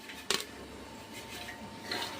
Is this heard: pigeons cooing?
no